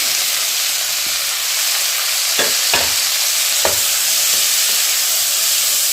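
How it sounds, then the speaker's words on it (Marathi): Cauliflower, green peas, carrot, green chillies and fresh green chickpeas roast in ghee in a pan over medium flame, making a steady sizzling hiss broken by a few sharp stirring scrapes and clicks. "तुपात हे भाजून घ्यायचं गॅस मिडियम करा आणि भाजून घेऊया"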